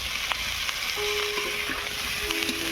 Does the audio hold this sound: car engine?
no